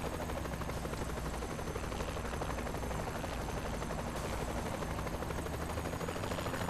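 Helicopter in the video game Saints Row The Third, a steady dense rotor wash and engine roar filling the whole stretch, with scattered gunfire-like crackle mixed in.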